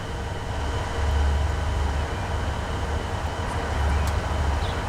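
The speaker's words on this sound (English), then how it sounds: "now we're gonna get on this train over there" Train running in the Transport Fever 2 video game, a constant rumbling roll with a heavy low drone that pulses louder twice, steady throughout with no speech.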